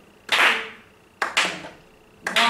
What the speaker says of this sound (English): Can you clap that with me?